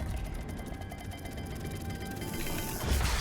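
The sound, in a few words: turning a puzzle dial mechanism in Hogwarts Legacy video game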